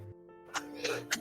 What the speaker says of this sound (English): Little enormous sneeze.